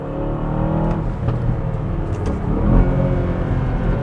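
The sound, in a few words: Aston Martin SUV engine revving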